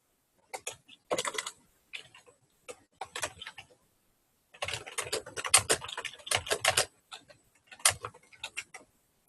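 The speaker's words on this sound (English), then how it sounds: "So I'm just going to type something small for right now so you don't have to listen to me." Keys clatter on a computer keyboard in irregular bursts of quick taps, close and crisp, with short silent gaps between runs of typing.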